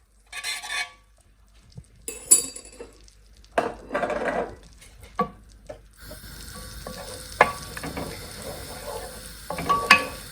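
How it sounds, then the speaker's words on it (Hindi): Garlic paste sautéing in melted butter while cooking Kenyan-style mogo (cassava), with intermittent stirring and scraping of a pan and soft sizzling that grows steadier and louder in the second half, close by with no talking. "इसमें थोड़ा सा हमने सोटे करके ताकि थोड़ा गार्लिक का फ्लेवर इसमें आ जाए"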